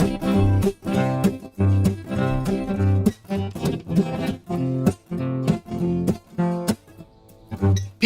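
Acoustic guitar strummed with a steady danceable beat, a low bass note struck under each rhythmic chord, played alone with short pauses between loud strums.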